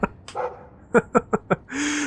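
A dog in the video game Dragon Age 2 lets out a quick run of short, close barks and yips, four sharp woofs in a row, then a whining tone at the end, no talk.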